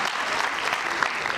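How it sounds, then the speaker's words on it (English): Audience applauding at a school annual function, a brief burst of dense, even clapping from a sizeable crowd in a hall. "Please give a big round of applause for them."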